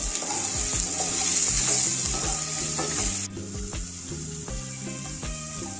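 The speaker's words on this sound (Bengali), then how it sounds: "পটলটাকে এবার ভেজে নেব।" Pointed gourd (potol) pieces, lightly salted, sizzle continuously in hot mustard oil in a kadai, with stirring scrapes over the steady frying hiss and soft music underneath.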